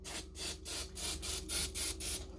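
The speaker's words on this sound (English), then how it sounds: "And you want to spray the chicken again." Repeated hissing sprays from a spray bottle onto chicken for the air fryer, about eight quick bursts in a steady rhythm, close up over a low background hum.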